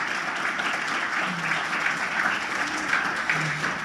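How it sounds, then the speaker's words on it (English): A conference crowd gives a round of applause for sponsor UNICEF, a moderately distant, continuous clapping that holds steady for a few seconds with no talk. "Can I get a better round of applause"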